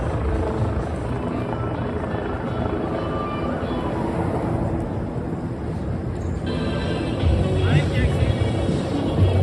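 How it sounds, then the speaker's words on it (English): A helicopter flying overhead in Times Square on New Year's Eve, a steady low rotor drone that continues for the whole stretch beneath crowd noise and wind buffeting, and it swells slightly toward the end. "Ooh, I hear a helicopter above."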